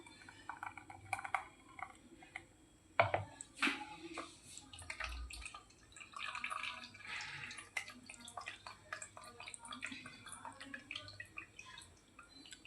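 Grated coconut squeezed by hand releases milk that drips and trickles into a bowl, making quiet, irregular splashes and wet squelches.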